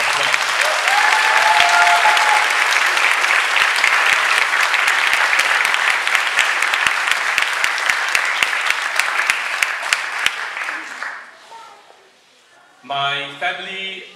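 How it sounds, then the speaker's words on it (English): A large audience applauds loudly and steadily at a Christmas Day church celebration, dense clapping that thins out and fades after about ten seconds, followed by a brief spoken voice. "Let's just give them another round of applause."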